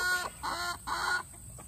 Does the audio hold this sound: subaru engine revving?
no